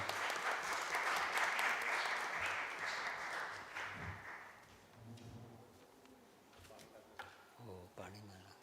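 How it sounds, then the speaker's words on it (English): An audience at a philosophy gathering applauds to welcome a professor. The clapping is dense at first, then fades over several seconds, giving way to quieter room sounds and a few scattered thumps. "Please join me in welcoming Professor Deshpande with a warm round of applause."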